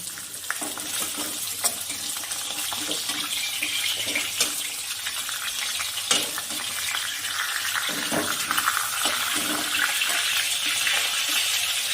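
Katla fish pieces fry in hot oil in a wok, giving a steady close sizzle and crackle throughout with occasional scraping and stirring clatter, no talking.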